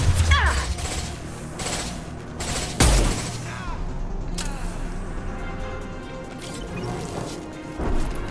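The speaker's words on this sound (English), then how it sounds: "Firing an impact shot!" In the Mass Effect 2 video game, an impact shot fires amid a firefight, with sharp crashing blasts and whacks early on and scattered hits and shots trailing off over a busy background.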